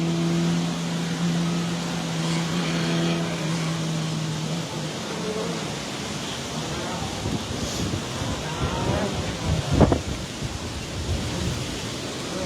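Steady broadband wind buffeting a microphone outdoors at the seaside in Pourville-sur-Mer during a hill climb race on a stormy October day, a continuous roar with a brief louder gust near the end.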